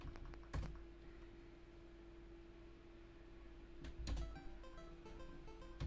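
Keys clatter on a ZX Spectrum Next computer keyboard: a few sharp clustered clicks near the start and again near the end, with sparse quieter taps and a steady low hum between.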